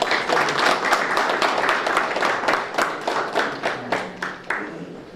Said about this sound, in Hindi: बहुत ही उत्कृष्ट कार्य किया है, इनके लिए भी जोरदार ताली।